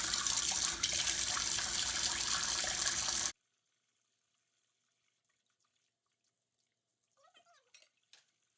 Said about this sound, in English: I'm gonna go ahead and move this into the sink. And then you just wash it like you would do a normal dish